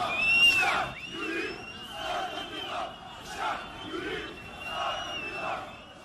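Tens of thousands of Algerian protesters chant slogans in city streets against a fifth term for Bouteflika, a loud, massed crowd repeating a rhythmic chant in steady waves.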